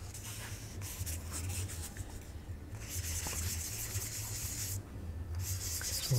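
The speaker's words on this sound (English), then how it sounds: "Maybe I can give this a light sand. I'll just use a really fine, what have I got here?" Fine 800-grit sandpaper rubbed lightly over a plastic 1/48 Tamiya F-4B Phantom model kit seam, giving a steady, close, continuous soft scratching with brief pauses, no talk.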